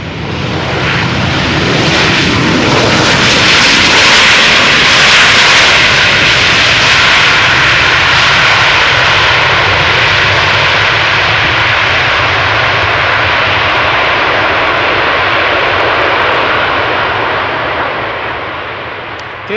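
A KLM jet airliner lands on Amsterdam Schiphol's Polderbaan runway, its engine roar swelling loud and close, holding steady, then slowly fading as it passes, with no talk over it.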